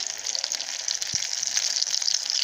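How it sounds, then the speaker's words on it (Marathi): A veggie burger tikki frying in a pan, with a close, continuous bright sizzle and crackle and one soft thump partway through, and no voices. "आपली टिक्की फ्राय होतीये"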